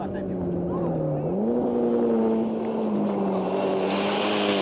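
A rally car at full throttle on a 1993 Canadian Rally Championship stage in Charlevoix, its engine droning loud and steady as it shifts up through the gears, with one upward jump in pitch near the start.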